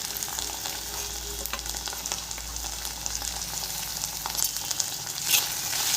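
Finely chopped tomato sautés in a pan for Punjabi chole, a continuous near sizzle with scattered crackles and a short louder stir near the end, without speech.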